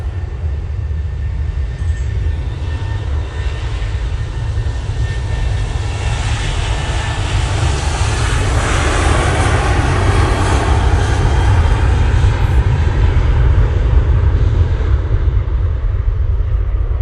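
An aircraft painted in Manchester City livery passes at Manchester Airport, a loud, sustained engine roar with heavy low rumble that swells and holds for seventeen seconds.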